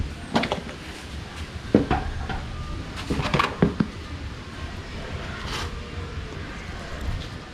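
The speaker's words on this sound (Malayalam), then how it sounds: "നമുക്ക് സീറ്റ് മാറ്റാം." Removing the seat of a Royal Enfield Himalayan motorcycle makes several sharp, close clunks and plastic knocks in irregular bursts, with quieter rustling handling between them.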